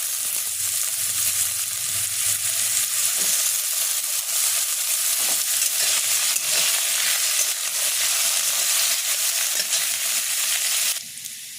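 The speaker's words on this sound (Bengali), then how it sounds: "এখন আলুটা লাল লাল করে ভাজা হয়ে গেছে" Potatoes and grated coconut frying in a pan for a vegetarian banana-flower curry give a loud, steady sizzle and hiss with light stirring scrapes, running unbroken until it cuts off near the end.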